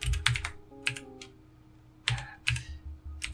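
Commands being typed on a computer keyboard, in short close bursts of crisp key clicks separated by a quiet pause.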